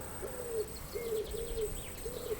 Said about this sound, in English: Pigeons are cooing.